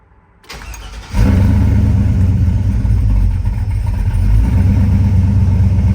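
A GM LS V8 (4.8, 5.3 or 6.0 litre) with a surging idle fault fires up after a short crank and settles into a loud, steady, rumbling idle close by.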